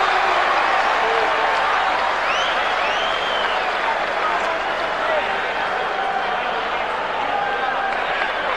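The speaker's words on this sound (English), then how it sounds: "Very pro-Tua crowd." A large crowd at a heavyweight boxing match between Lennox Lewis and David Tua at Caesars Palace roars and applauds in a dense, steady wash between rounds, while a commentator keeps talking over it.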